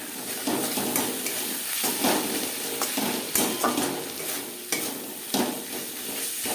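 Spices, salt, turmeric and green chilli paste being stirred into onion and garlic paste in a pan for egg curry, a steady scraping stir with soft frying hiss and repeated spoon strokes, close and alone.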